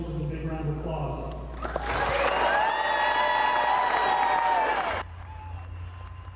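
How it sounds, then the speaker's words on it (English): A crowd claps and cheers for Iowa National Guard soldiers returning to Siouxland from an overseas deployment, a loud burst lasting a few seconds with voices mixed in before it cuts back. "Join me in giving these soldiers a big round of applause."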